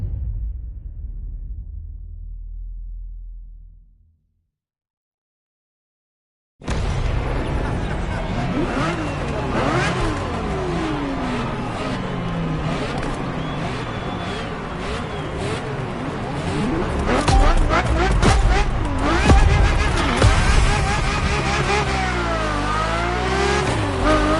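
Ferrari F50 engine in the racing game The Crew Motorfest, revving and accelerating loudly with shifting pitch sweeps after a brief silence, with faint low rumble before the gap.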